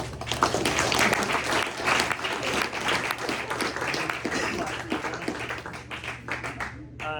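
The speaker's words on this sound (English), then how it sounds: "So let's give Bennett one more round of applause." An audience at a press luncheon applauding a young tech tutor named Bennett, brisk continuous clapping over a low hum, with some cheering voices, tapering off near the end.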